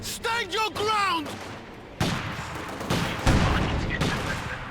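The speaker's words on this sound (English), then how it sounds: "Light machine gun bullets continue to ring out." Light machine gun bullets rattle in sustained bursts during a Company of Heroes 2 winter battle, dense and mid-distance, layered with other battlefield noise. Early on, a voice is briefly heard over the firing.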